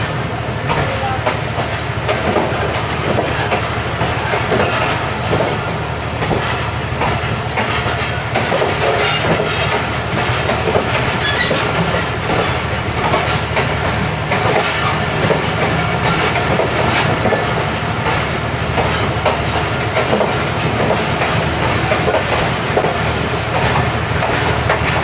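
Coaches of the Shalimar Express rolling along the track in India, the wheels giving a steady, loud clickety-clack with a constant rumble and hiss throughout, with no voices over it.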